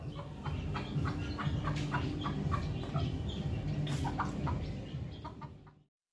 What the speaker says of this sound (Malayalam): ഈ കാണുന്നത് നമ്മൾ വീട്ടിൽ കോഴിക്കട വെച്ചിട്ട് വിരിപ്പിച്ചെടുത്തിട്ടുള്ള കോഴിക്കുട്ടികളാണ്